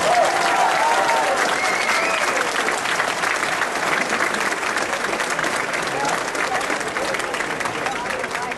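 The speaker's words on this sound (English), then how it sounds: "Give yourselves a round of applause." A large crowd at a chapter dinner bursts into sustained, dense applause that fills the room evenly for several seconds, loud and steady without letting up.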